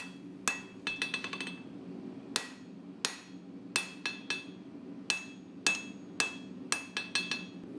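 A hammer strikes a Damascus Bowie knife blade during forging, a series of sharp, ringing metallic blows in irregular clusters, some fast and bouncing, heard close and fairly quiet.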